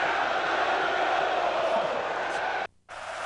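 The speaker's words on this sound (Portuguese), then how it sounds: "Carnaval de rua em Istambul, na Turquia. São os torcedores do Fenerbahçe" Fenerbahçe supporters celebrating in the streets of Istanbul after a win, a dense steady crowd roar of chanting and cheering that briefly cuts out near the end before resuming.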